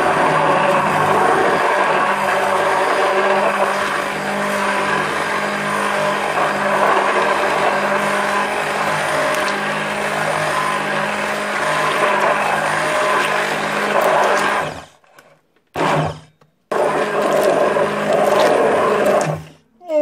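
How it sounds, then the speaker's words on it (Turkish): A blender whips a chocolate walnut pudding (supangle) mixture, running loud and steady for about fifteen seconds, then cutting out and restarting in short bursts before stopping. "Şimdi blender ile iyice çırpacağız."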